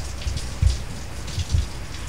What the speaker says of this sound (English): you can probably hear the rain